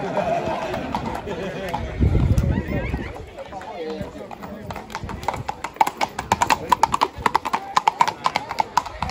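Hooves clip-clop at a horse beauty contest held during the Agios Kirykos festival in Kleio, Lesvos, in 2024. The hooves begin as a crisp, rapid rhythm of hard strikes, and an announcer's voice carries over crowd noise.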